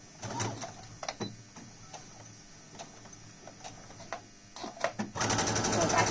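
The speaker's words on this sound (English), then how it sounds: "Now I'm going to just sew the bottom shut." A sewing machine stitches the bottom of a fabric face mask shut in close bursts of rapid ticking, pausing between runs, then runs steadily at the end.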